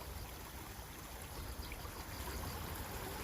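Irrigation water flowing steadily through a grassy channel beside rice paddies in the Korean countryside, a continuous close babbling rush with no talk.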